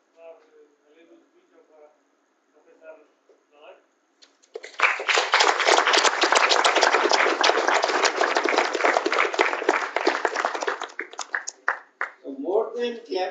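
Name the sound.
audience clapping after lecture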